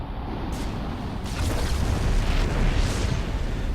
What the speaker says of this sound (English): the ability to call down a tactical nuclear strike